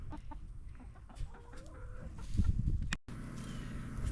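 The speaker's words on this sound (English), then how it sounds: "The guinea hen is still here." A guinea hen on a farm gives repeated harsh, rhythmic calls close to the microphone, loud and unaccompanied by speech.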